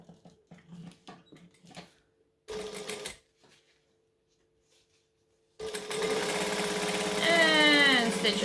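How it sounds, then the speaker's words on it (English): Sewing machine stitching a vamp shut in a sewing-pattern project, with short bursts of quiet stitching first, then a loud, steady run of whirring needle strokes after a pause. "I'm going to stitch this shut again now"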